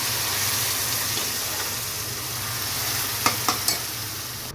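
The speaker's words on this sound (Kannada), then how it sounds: "ಈಗ ಅವಲಕ್ಕಿ ಮತ್ತು ಹೆಸರುಬೇಳೆ ಬೇಯಿಸಿಟ್ಕೊಂಡಿರೋದನ್ನ ಇದಕ್ಕೆ ಹಾಕೋಣ" Cooked beaten rice and moong dal added to a hot pan with turmeric for avalakki pongal and stirred, a steady close sizzle with a few sharp spoon scrapes and taps near the end.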